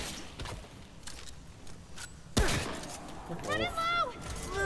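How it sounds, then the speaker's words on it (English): Gunfire from the co-op shooter Remnant: From the Ashes rings out in a sharp burst midway, followed by scattered shots and mechanical sounds while players talk over the game audio. "He just shot me like three times."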